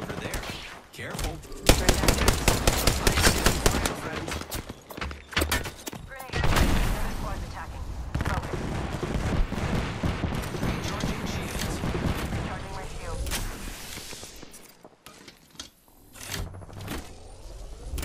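Heavy gunfire in Apex Legends on Kings Canyon, with dense bursts of automatic fire and rapid single shots that keep going and trail off toward the end. Voices talk at times alongside the shooting.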